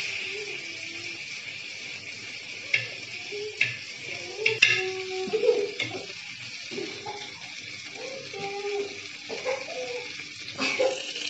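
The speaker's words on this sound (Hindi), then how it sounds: "ये मछली का जो है पोटा है, इसको फ्राई करें।" Fish roe (pota) frying in oil in a pan, a soft steady hiss with scattered spitting pops and occasional stirring clicks, fairly quiet overall.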